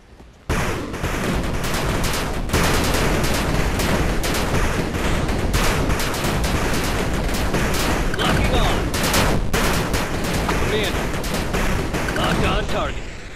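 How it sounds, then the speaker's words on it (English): Rockets and gunfire from an 8 Bit Armies real-time strategy battle: a dense, loud, continuous barrage of rapid shots and blasts lasting over twelve seconds, with brief gaps between volleys and a voice speaking over it. "Rockets launched."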